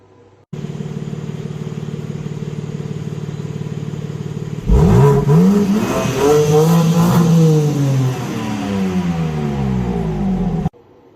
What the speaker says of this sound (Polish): To jest czysta radość z jazdy w wykonaniu BMW M4 Competition Coupe.